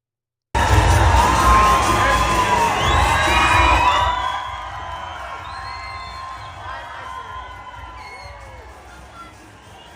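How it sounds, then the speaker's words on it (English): An arena crowd at a women's basketball game cheers and shouts loudly, with whoops and high-pitched screams at full volume for several seconds, then fades to a lower murmur and scattered calls. "the people are still cheering"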